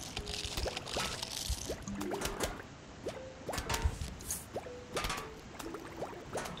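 Bubble-attack effects from the Plants vs. Zombies video game: soft bubbly pops and short rising blips repeat steadily at low volume, with watery gurgling underneath.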